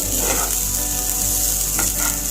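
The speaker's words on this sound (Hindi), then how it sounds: "तो मैंने जो है चावल को थोड़ा सा फ्राई कर लिया है धीमी आंच में।" Rice frying in ghee over low heat for sweet Bengali polao, a steady soft sizzle with faint stirring scrapes, close and continuous without talk.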